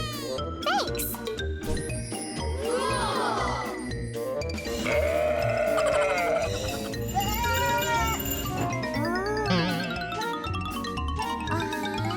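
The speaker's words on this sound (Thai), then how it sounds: "ให้อาหารแพะทางนี้" Goats bleat at feeding time on a farm, with repeated wavering calls close by, mixed with jingling bells and voices talking throughout.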